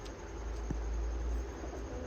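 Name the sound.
pigeons cooing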